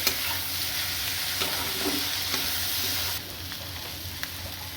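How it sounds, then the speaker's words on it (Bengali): Ground sesame paste stirred and fried in a pan, giving a steady close sizzle with continuous scraping strokes throughout, no talking. "তিল বাটাটা দিয়ে দিচ্ছি দিয়ে এটা খুব ভালো করে নাড়তে হবে"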